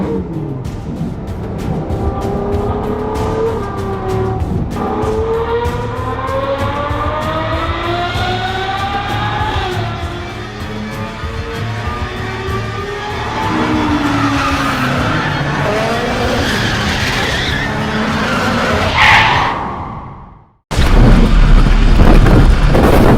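A Ferrari's tires squeal and skid for about twenty seconds as the engine strains. The sound then cuts off abruptly and is followed by a loud, harsh burst as the car crashes, totaling it.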